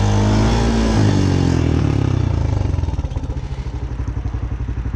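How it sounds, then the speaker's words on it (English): A loud engine passes close by on a road, a steady roar that fades into a throbbing, pulsing idle-like rumble by the end, with no talking. "the cars driving down the road"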